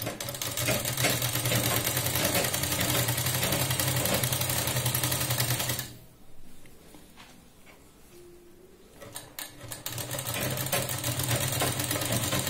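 Sewing machine stitching a blouse sleeve onto the shoulder, a loud, close, rhythmic whir that runs steadily for about six seconds, drops to quiet handling noises, then starts up again.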